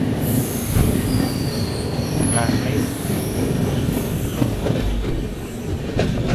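A train rolling past close by, loud and continuous, with squealing wheels, metallic screeches and a rumbling clatter of rail cars throughout.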